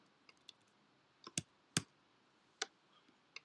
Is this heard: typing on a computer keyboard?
yes